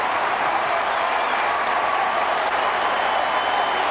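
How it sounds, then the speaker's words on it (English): Mets fans in a Yankee Stadium crowd cheering after a Piazza base hit, a broad, steady roar of applause and shouting, loud and continuous without letup. "the Met fans get a chance to cheer here in the first inning"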